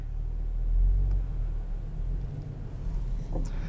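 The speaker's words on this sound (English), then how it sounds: "That new exhaust sounds awesome." A 2022 Kia Stinger GT1 with a new exhaust rumbles deeply nearby, swelling in a short rev before settling back to a steady idle.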